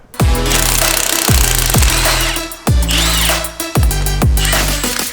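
A power tool, an impact-driver style unit, removing driveshaft bolts on a Jeep JL with 1350 shafts: loud, close, repeated hammering bursts, about six in a row, separated by short pauses.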